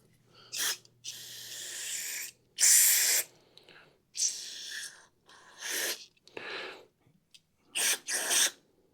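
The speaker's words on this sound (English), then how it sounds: "while we have it out, spray down through the jets and everything" Aerosol cleaner sprayed through the carburetor jets of a Kohler engine on a Toro Z Master mower, heard as a series of sharp hissing bursts, some brief and some sustained, close to the microphone with short pauses between them.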